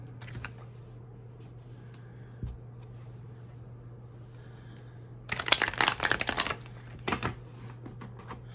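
Tarot cards are shuffled by hand: a few faint taps and handling sounds, then a dense burst of riffling card flutter lasting about a second, followed by a shorter crisp shuffle, close and clear.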